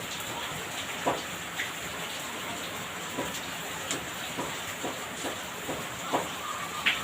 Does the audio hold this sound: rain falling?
yes